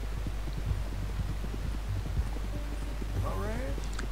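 Horse hooves clip-clop at an even, steady pace in Red Dead Redemption 2, the regular thuds running throughout while a short whinny-like call rises near the end.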